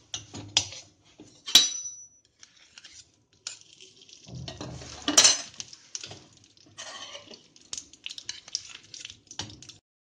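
Kadai set down on a gas stove and ghee spooned in: scattered metallic clanks and scrapes of the pan and utensils, with a couple of sharp clinks between quiet gaps, close and fairly soft.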